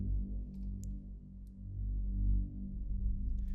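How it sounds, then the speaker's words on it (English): Low synth pad with sub bass, a steady rumbling drone of layered sustained low tones with a few faint high ticks, playing alone at moderate level. "and another low pad, which sounds like this on its own."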